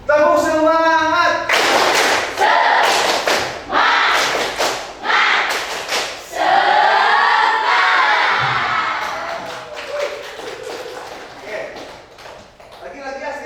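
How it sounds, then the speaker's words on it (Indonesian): A group performing a tepuk semangat, a rhythmic spirit clap: loud bursts of synchronized claps and thuds in patterned sequences, mixed with shouted voices and crowd cheering between the clap phrases. "kita tepuk semangat dulu biar lebih semangat lagi"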